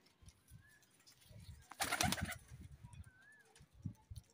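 Pigeons at a sale gathering give low, soft coos in short repeated bursts, with a sudden flurry of flapping wings in the middle, fairly close.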